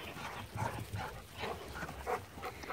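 A dog that has spent months in a kennel whimpers and gives soft yips in repeated short bursts, close by and fairly quiet.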